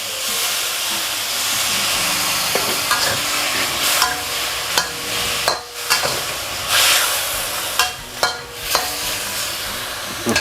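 Pork stir-fried with an all-purpose sauce and a splash of water hisses and sizzles loudly and continuously, with repeated scraping and clacking of a utensil against the pan, steam bursts and brief dips in the noise.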